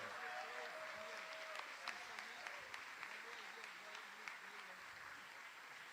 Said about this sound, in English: put your hands together and give a warm welcome to my brother